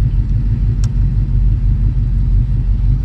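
A 1968 Pontiac Firebird 400 convertible's V8 rumbles steadily up close, a deep continuous low growl at a constant level with no speech.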